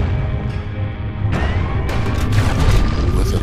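In the Bastion video game, a wooden ship explodes with a heavy boom, followed by crashing, splintering debris and rumbling that builds and stays loud to the end.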